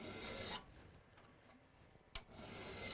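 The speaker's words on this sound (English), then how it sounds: "First thing I'm going to do is file the profile." A file works the profile of a rock-worn pick, giving a quiet rasping scrape at the start and again at the end, with a single sharp tap in the pause between.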